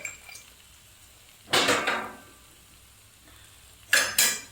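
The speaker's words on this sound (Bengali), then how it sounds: "দিয়ে এটাকে আমি নাড়াচাড়া করলাম।" Spice paste and a spoonful of sugar are stirred in a pan for a yogurt fish curry. Two separate bursts of scraping and sizzling sound close by, with quiet pauses between them.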